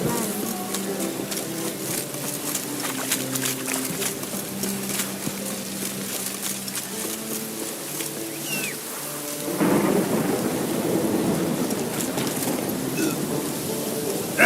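Steady rain patters across a stormy outdoor scene in The Witcher game, with rumbling thunder rolling beneath a low musical drone; a heavier downpour surges in partway through, and a voice speaks briefly.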